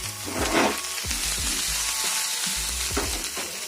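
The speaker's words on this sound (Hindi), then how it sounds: "ऑनियन को जब तक फ्राई करना है थोड़ा सा ब्राउन कलर आ जाएंगे तब तक आपको फ्राई करना है" Onion fries in a hot pan with a loud, close, continuous sizzle and crackle, broken by several soft stirring scrapes and knocks of a utensil against the pan, with no talking.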